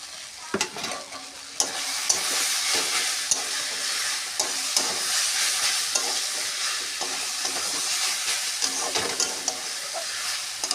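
Crushed fried dried red chilies are stirred into a pan of fried mixed leafy greens, a steady soft sizzle under repeated scraping stir strokes over several seconds, close and moderately quiet.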